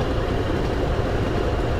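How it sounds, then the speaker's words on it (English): Diesel railcar in the Diesel Railcar Simulator game rolling along the rails, a steady, dense rumble heard from outside the train with no break, alone and without talk. "we get to hear the outside of the train a little bit more"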